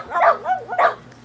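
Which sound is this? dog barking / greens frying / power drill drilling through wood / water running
dog barking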